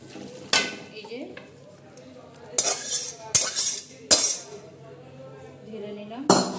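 Meat curry is poured out of a metal pan, with several sharp, spaced clanks and scrapes of a utensil against the pan over a faint residual sizzle.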